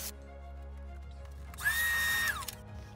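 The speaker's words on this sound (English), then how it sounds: "The left hole that I'm currently drilling is for the forward rail button." A power drill bores a hole in a 75mm model rocket body for a forward rail button, a brief high-pitched whine of about a second that winds up and then trails off, against a low background hum.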